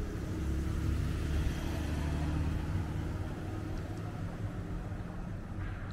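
Cars drive through the narrow streets of Old Town Marblehead, Massachusetts, at dusk, a steady low engine rumble and tire roar close by that swells and then eases slightly as a vehicle passes.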